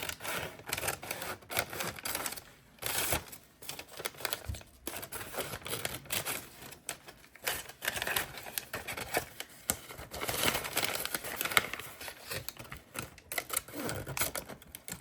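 Scissors cutting along the folded sides of a paper bag, with a steady run of crisp snipping and rustling paper sounds, close and fairly quiet, without talking.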